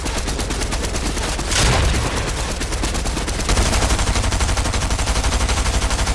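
Rapid gunfire in a shooter video game as an enemy returns fire, with dense bursts of shots repeating steadily and a louder burst near the middle, close and loud.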